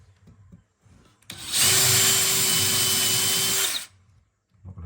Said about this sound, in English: I'm not going to drill all the way through.